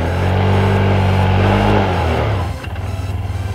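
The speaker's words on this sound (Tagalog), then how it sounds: "Ito po ang tunog ng makina." A 2018 PGO Tigra 150cc scooter engine drones loudly up close, holding a strong steady hum before dropping at about two and a half seconds into a lower, pulsing idle.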